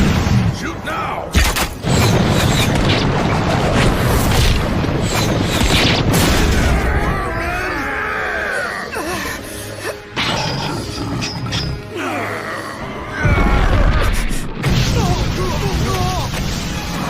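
An animated battle erupts in loud, dense gunfire and booming explosions, one blast piling onto the next almost without pause. Shouting voices cut through the din now and then.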